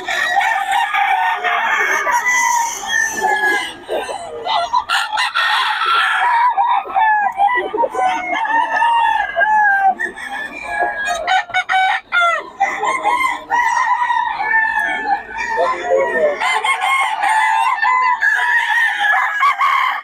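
Many chickens and roosters at a poultry spot in Bocaue crow and cluck continuously, loud and close, overlapping calls filling the whole stretch.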